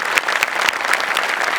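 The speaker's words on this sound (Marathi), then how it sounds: "भारी जोरदार टाळ्या." Audience applause after a comedy sketch on a Marathi stage comedy show: dense, steady clapping from a large crowd, loud and continuous throughout without a break.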